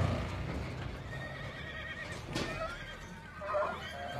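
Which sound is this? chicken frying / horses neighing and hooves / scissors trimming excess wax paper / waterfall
horses neighing and hooves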